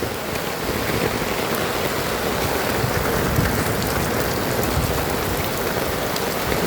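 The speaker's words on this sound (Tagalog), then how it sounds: "lalong lumalakas yung ulan." Heavy rain pours down steadily, a dense, constant hiss of drops striking surfaces nearby.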